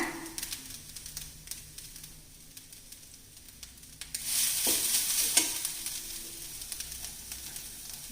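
Roasted grated coconut and cardamom powder are stirred into a pan of pongal: soft scraping stirs at first, then a louder hissing sizzle rises midway and carries on close by.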